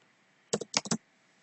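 Computer keyboard typed in a short burst of about five quick, close keystrokes, clustered clicks in an otherwise quiet room.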